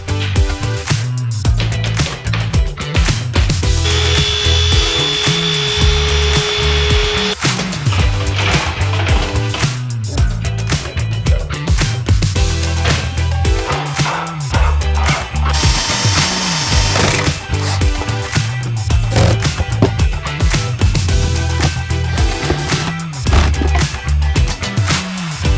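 A power tool cuts through a piece of plastic inside an RV, grinding and buzzing steadily with rough, uneven bites and a brief higher whine, close and loud throughout.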